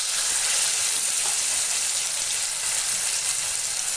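Cumin seeds hit hot oil with a loud, steady sizzle that stays continuous and close for the whole stretch, a bright crackling hiss and no talking, while a fish curry is being cooked.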